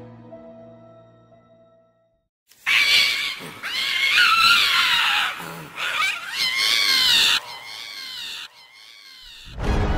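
After a quiet opening, a loud, eerie wavering scream erupts, part neigh and part howl, rising and falling for several seconds before cutting off.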